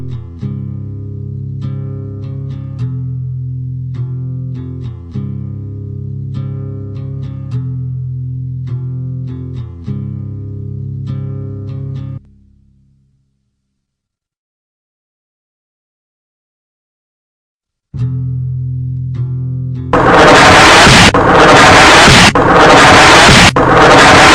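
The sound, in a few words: bomb explosion, suicide bomber blowing himself up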